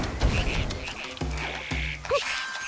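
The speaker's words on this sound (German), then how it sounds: "das heißt, es sind wieder irgendwo Frösche." Frogs croak in rainy weather in The Legend of Zelda: Echoes of Wisdom, a few low rhythmic croaks rising out of a steady background of game ambience and rain.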